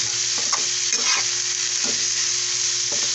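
White bitter gourd (ampalaya) and egg sizzle and fry in a pan with a constant loud hiss, while a utensil stirs and scrapes it every so often. No voices are heard.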